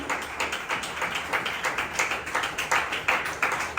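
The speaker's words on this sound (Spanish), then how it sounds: "Démosle un fuerte aplauso a nuestro Dios en esta mañana" Dense applause from a large church congregation fills a reverberant room, sustained and steady with slight swells, no voices over it.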